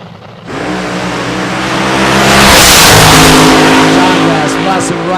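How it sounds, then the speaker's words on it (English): A Top Fuel dragster launches at a drag strip at Famoso Raceway with an overwhelming, loud engine roar that swells and holds, then recedes slightly as it pulls away. Announcer talk runs underneath. "So here we go. Top Fuel Dragster."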